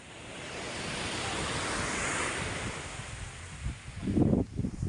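Ocean waves crash and wash onto a beach, a broad steady roar of surf with wind buffeting the microphone, and a heavier surge of water breaking near the end.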